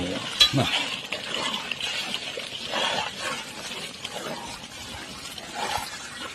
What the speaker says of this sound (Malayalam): വട്ടത്തിൽ ഇങ്ങനെ ഇളക്കുക